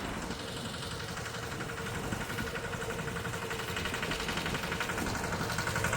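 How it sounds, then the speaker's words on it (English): An old tractor engine idles steadily nearby, a rough continuous rumble with faint knocking and no voices. "I think someone started the tractor"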